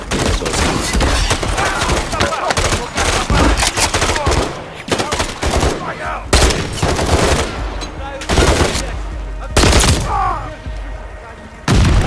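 Rapid automatic gunfire rattles through a Call of Duty: Modern Warfare 3 highrise firefight, with loud dense bursts, sharp single shots and brief pauses.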